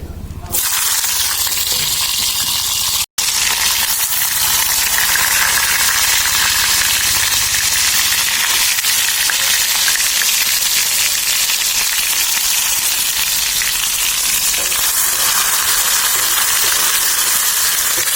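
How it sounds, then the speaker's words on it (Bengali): Chopped tomatoes hit hot oil in a wok, bursting into a loud, steady sizzle that holds for the whole stretch. "আমরা কড়াইতে তেল দিয়েছি, আমরা এর ভিতরে এখন টমেটো কুচিগুলো দিয়ে দেব।"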